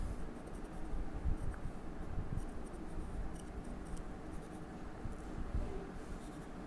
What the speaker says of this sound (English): just going to draw the knuckles